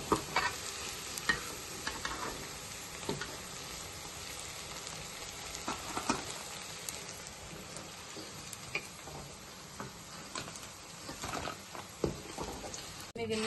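Cauliflower florets deep-frying in hot oil in a kadai for gobi 65, a constant crackling sizzle with scattered spatula stirs and clinks, close and even throughout without talk.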